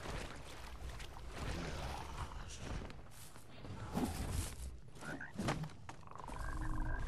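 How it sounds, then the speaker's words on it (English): Frogs croaking in the video game Mortal Shell, faint scattered croaks over a low rumbling ambient bed with occasional thuds. "now these frogs, you can kill them by dodging into them"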